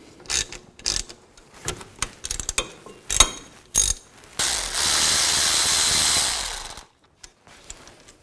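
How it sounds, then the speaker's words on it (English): Ratchet with a 12mm socket loosening brake caliper bolts on a 2000-06 Chevy Tahoe, heard as several short bursts of rapid clicking followed by one long continuous ratcheting run, close and alone. "I'm going to use a 12mm socket, loosen those up."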